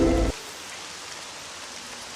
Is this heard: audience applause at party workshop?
no